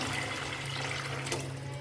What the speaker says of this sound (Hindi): अब हम इसके अंदर डाल देंगे पानी। 2 कप के करीब हम इसमें पानी डाल दें।